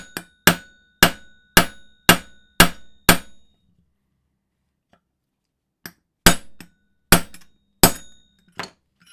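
A hammer drives a steel punch into metal on a Dillon powder measure, striking in a fast run of about seven sharp, ringing blows, then a short pause, then five more loud close impacts.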